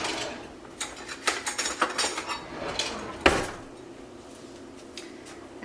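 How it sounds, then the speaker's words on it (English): Spoon clinking and scraping against a bowl while stirring food coloring into stiff, thick dough for Halloween treats, a run of irregular close knocks and scrapes with one sharper clack, then quiet. "This dough is pretty hard to stir."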